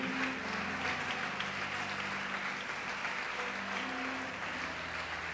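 A church congregation applauds God during a sermon, steady crowd clapping heard at a moderate distance over sustained organ or keyboard tones, with no break in the applause.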